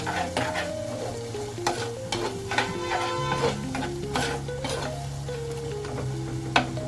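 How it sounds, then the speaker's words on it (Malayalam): Prawn chili curry boiling and sizzling in a clay pot, a steady bubbling fry with stirring clinks and scrapes close by, no voices. "കണ്ടോ, നല്ല ഭംഗിയായി തിളക്കുന്നുണ്ട്."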